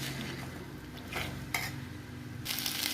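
A spatula stirs a prawn fry with egg in a pan, producing scraping and light sizzling with a few louder bursts of frying noise, close and steady, without speech.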